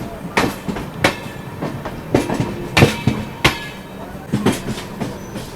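The Cheran Express rumbles into a station up close with rhythmic clattering thumps of wheels over rail joints, loud and continuous, with no talking.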